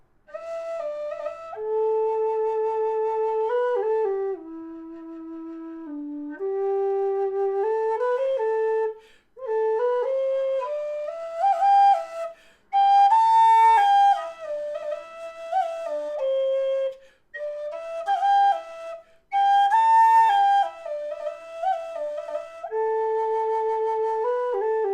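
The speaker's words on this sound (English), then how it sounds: "So that's Nick's standard low D with the offset hole" A Nick Metcalf Standard Low D whistle with an offset hole plays the slow air If I Was a Blackbird as a solo, its pure, breathy notes sustained and clear, with short breaths between phrases.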